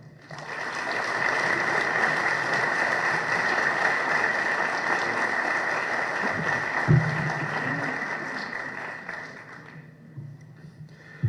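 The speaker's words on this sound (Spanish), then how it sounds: "Recibamos con un fuerte aplauso a nuestro conferencista José Manuel Villalpando." An audience applauds to welcome a lecturer at a talk on Maximilian's execution, steady loud clapping for about nine seconds that then thins out and fades to a few scattered claps.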